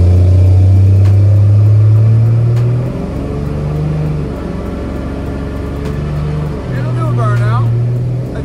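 A truck doing a burnout in front of an auto parts store, its engine roaring loud and close with deep rumbling revs that dip and surge again, alongside faint tire noise.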